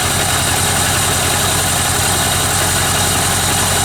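A 1979 Yamaha XS1100 F motorcycle engine idles steadily at close range, a loud, constant rumbling drone with a fast regular pulse and no voices.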